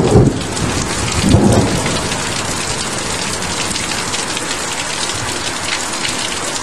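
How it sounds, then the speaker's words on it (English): A thunderstorm in southeast Queensland: heavy rain pours steadily and densely on surfaces, with a close thunder rumble near the start that rolls and fades under the continuous downpour. "still bucketing down."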